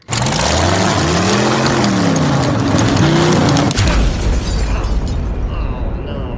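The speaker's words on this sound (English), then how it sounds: "I blew an engine." A revving car engine whines loudly and climbs in pitch, then blows up in a sudden rough bang, leaving a harsh sputtering rumble.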